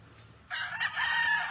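A Mayahin rooster with a straw-coloured comb lets out a single short crow on a farm. The call is fairly faint and brief against a quiet background.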